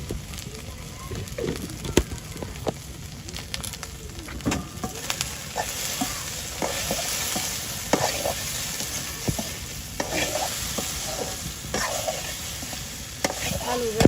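Okra (bhendi) frying in a pan with turmeric powder on a village stove sizzles continuously, with frequent scraping and stirring knocks from a spatula, close by, and a little background voice.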